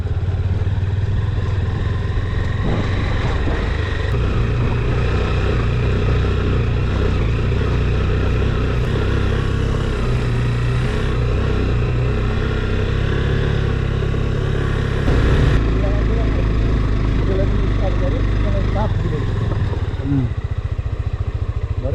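A motorcycle engine runs steadily and close for a long stretch on a village ride toward Chakhewa Danda, a constant mid-pitched drone with slight clatter and small shifts in intensity.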